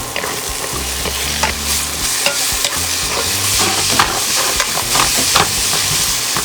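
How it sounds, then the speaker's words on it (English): Diced potato fries steadily in a hot pan seasoned with salt and pepper, a loud continuous sizzle broken by scraping stirs, with no voices. "We're gonna be cooking this potato for at least 5 minutes."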